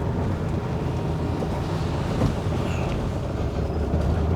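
A misfiring Ferrari 512 BB pulls in second gear with a loud, dense engine roar and rumble that holds steady for the whole stretch, with some wind noise on the microphone.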